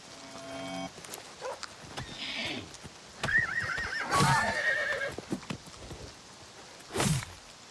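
A horse in Oblivion Remastered gives a sharp neigh amid scattered clip-clopping hooves, with a second whinny moments later and other game sounds around it.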